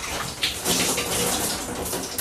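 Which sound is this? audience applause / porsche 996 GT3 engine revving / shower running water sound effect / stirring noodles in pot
shower running water sound effect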